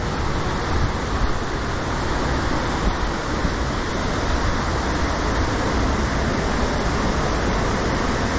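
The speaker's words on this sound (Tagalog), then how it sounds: "Hangin kayo." Wind rushes steadily and loudly along the jungle trail leading to Can-umantad Falls, a continuous broadband roar with no pauses and nothing else standing out above it.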